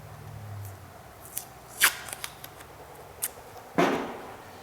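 Masking tape is torn and pulled in a few short, crisp bursts while taping up a 1950 Chevy truck's rust-damaged fender flange, with two louder rips standing out against a quiet shop background.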